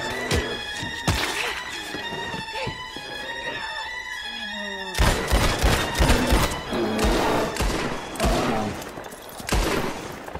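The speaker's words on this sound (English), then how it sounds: "So here, just shoot the bear four times." Rapid gunfire aimed at a bear in Red Dead Redemption 2, with a burst of sharp shots, a brief pause with music, then another loud volley of booming reports.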